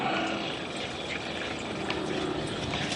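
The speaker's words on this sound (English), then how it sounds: "So I'm just gonna let that all drain out, pour a little bit back in there, flush it" Fuel draining from a kart's fuel tank through a coffee filter, a steady, continuous liquid trickle and splash running unbroken throughout at close range, with no voices.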